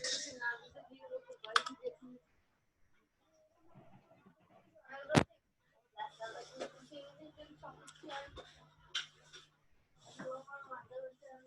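HTML code being typed on a computer keyboard, scattered bursts of quick key clicks with pauses between, a person speaking at intervals alongside.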